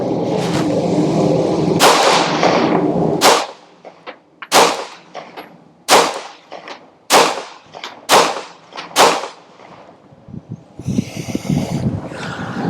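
A Glock 48X pistol fires seven sharp, loud shots in a fairly even sequence, each crack ringing briefly before the next, followed by faint handling noise.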